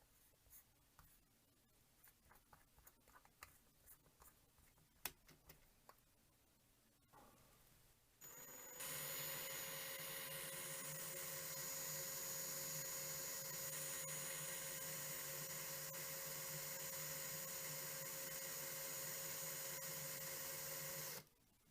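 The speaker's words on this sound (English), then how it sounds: "We'll pop them in the drill." After some quiet scratchy handling noises, a power drill twisting nickel (Ni200) wire whirs on loudly and runs steadily at high speed for over ten seconds before stopping.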